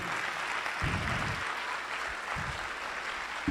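An audience at a school district event claps for a student team, a soft, continuous patter of applause with a few louder low thumps mixed in.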